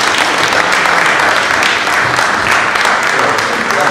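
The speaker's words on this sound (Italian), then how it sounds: "io gli farei un applauso." Loud, dense applause from an audience at a meeting on historic carnivals in Lavello, welcoming the mayor of Civitella; steady clapping fills the whole stretch without a break.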